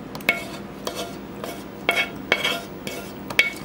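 Chicken is tossed with jerk sauce in a mixing bowl: a utensil strikes and scrapes the bowl in a loose, repeated rhythm of sharp clinks and wet stirring, close and clear with no talking.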